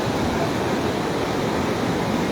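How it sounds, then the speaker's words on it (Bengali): Rushing water at an outdoor spot in Morocco makes a constant broadband roar, steady and fairly loud, with no talk over it. "পানির আওয়াজটা যে এত ভালো লাগছে"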